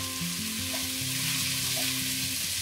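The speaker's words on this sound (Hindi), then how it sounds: "तो यहाँ पे देखिए मसाला हमारा खूब अच्छे से भून गया है" Onion, ginger, garlic and turmeric masala frying in a pan for masoor and moong dal khichdi, a loud continuous sizzle with scraping stir strokes close up and no voices.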